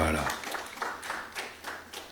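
An audience claps for an artist at a celebration of his 10 years in music in Benin, a brief burst of scattered handclaps that fades quickly at moderate distance.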